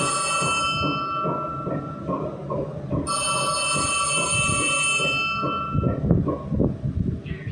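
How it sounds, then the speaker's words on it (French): Ringing telephone in the horror game Poppy Playtime Chapter 3, a steady electronic ring with bright tonal harmonics that breaks off midway and restarts, running nearly alone throughout. "qui appelle au téléphone?"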